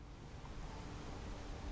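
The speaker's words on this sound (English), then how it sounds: "Very big waterfall." Steady rushing water of a very big waterfall in the Baldur's Gate 3 video game, a broad continuous roar filling the background at moderate level with no voices.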